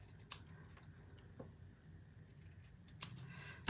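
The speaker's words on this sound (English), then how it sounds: "let me just get out a pair of scissors and I'm just gonna cut this at an angle" Scissors snip paper for a stamping craft project, a few quiet, sharp cuts spaced apart over faint room noise.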